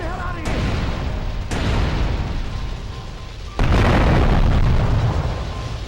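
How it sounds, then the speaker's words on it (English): Bomb explosion in GTA: Vice City, with a continuous roaring, rumbling blast that surges into a heavier, louder burst partway through, close and dominating. "body getting thrown across a certain distance after an explosion type of thing"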